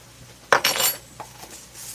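A metal tablespoon clinks while measuring an ingredient: one sharp, close metallic clink, a brief scrape right after, then a fainter tap.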